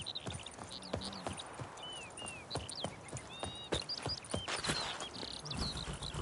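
Roach the horse walks in The Witcher 3 with clear, rhythmic clip-clop hoofbeats, each one sharp and close, while birds chirp and whistle in the background.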